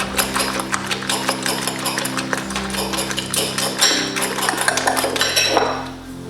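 Spaghetti omelette ingredients being mixed together in a bowl, with steady rapid clinks and taps of a utensil against the dish continuing throughout, close and fairly loud.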